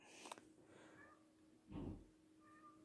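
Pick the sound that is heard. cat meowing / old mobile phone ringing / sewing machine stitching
cat meowing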